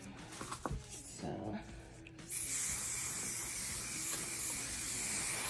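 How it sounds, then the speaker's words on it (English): After some faint rustling and handling, an aerosol hair contour spray hisses continuously for several seconds, close and steady. "I'm going to spray this with my contour spray"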